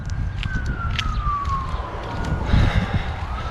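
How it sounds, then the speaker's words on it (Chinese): An ambulance siren wails in the distance through a heavily wooded residential area of Bend, Oregon. One long tone slides slowly downward above a low rumble of nearby traffic and wind. "这不是警车， 这是救护车。"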